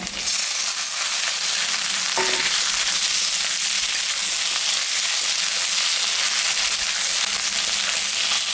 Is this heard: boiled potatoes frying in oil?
yes